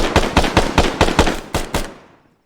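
Rapid bursts of close, loud gunfire in the ARMA 3 video game: about nine sharp shots in an uneven rhythm over two seconds, then a short decaying tail into silence.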